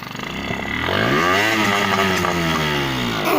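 A repaired scooter engine revs up close and loud, its buzzing pitch climbing and holding high, then dipping slightly, with no voices.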